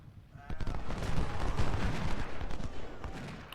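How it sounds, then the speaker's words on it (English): Distant massed musket volleys in Ultimate General: Civil War, from Civil War infantry carrying Springfield 1855 and Harpers Ferry rifles, a dense rumbling crackle of overlapping shots swelling and rolling steadily without pause. "I want to fire on that battery"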